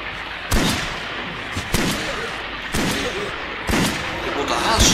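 Shotgun blasts in the survival horror video game Silent Hill Homecoming, four loud, sharp reports spaced about a second apart, each with a short booming tail over a dense background of game noise.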